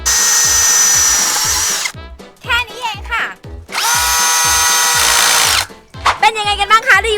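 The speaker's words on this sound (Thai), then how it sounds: "เดี๋ยวเราลองมาใช้สกูเจาะเหล็กกันดีกว่าค่ะ" An OSUKA OCHD802 cordless drill whines in two long loud bursts driving a self-drilling screw into steel, each followed by clicking and ratcheting as the screw bites, with a voice speaking briefly in between.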